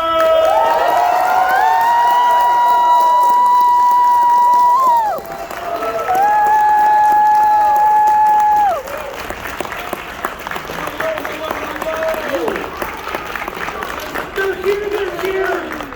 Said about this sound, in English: Faster before the applause dies.